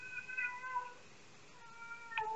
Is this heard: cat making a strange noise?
yes